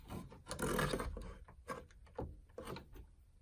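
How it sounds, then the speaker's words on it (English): Scraping and rubbing of a hand tool against a painted interior wall while a light switch is being removed, heard as a few close, uneven rasping strokes with short pauses between them. "Oh no, I'm scratching the wall."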